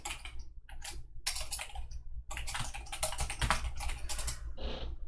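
Computer keyboard typing commands into the Python IDLE interactive shell: close, crisp key clicks in irregular bursts with short pauses between runs, no talking.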